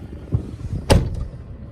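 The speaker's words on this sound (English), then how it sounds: "Let us try the door sound." A solid thud of a Honda Accord Hybrid car door shutting, single and close, with a softer knock just before and a faint outdoor hum around it.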